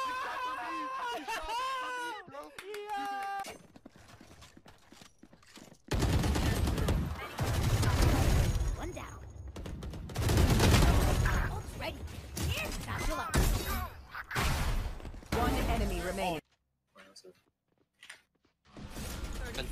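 Gunfire in the tactical shooter Valorant, with bursts of broadband shots crowding together at loud volume amid game effects, while players talk over it and a quieter pause follows near the end.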